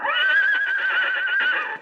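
A horse whinnies loudly and alone as a radio drama sound effect in a rural setting, one long wavering neigh that trails off near the end.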